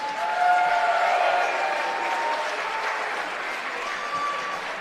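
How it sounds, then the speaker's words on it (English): An arena crowd claps and cheers after a heavyweight boxing bout, a dense, even wash of applause that fades slightly toward the end. "Round of applause for both these combatants."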